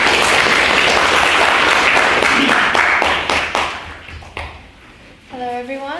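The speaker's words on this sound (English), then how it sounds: "Give Josie a round of applause." Debate society audience applauds loudly, thick clapping that thins into scattered claps and stops, after which a voice begins speaking.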